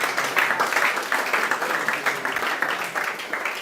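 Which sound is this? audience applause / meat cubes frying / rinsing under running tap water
audience applause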